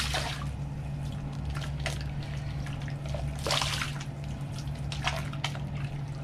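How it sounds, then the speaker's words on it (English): Angora yarn being washed in a basin of water, soft sloshing and dripping close by, quiet and continuous with a steady low hum underneath. "put it in the water"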